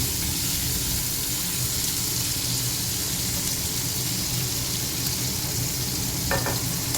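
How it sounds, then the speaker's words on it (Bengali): Spices or vegetables fry in a pan in a Bengali home kitchen, giving a steady, close, continuous sizzle that runs unbroken with no talking. "আগে একটু ভেজে নেব।"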